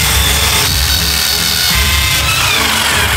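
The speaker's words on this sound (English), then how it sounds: "Drill into it? Not a bad idea." Power drill grinding loudly and continuously into a block of ice, a harsh close rasp with shifting pitch as the bit bites in, with no talking.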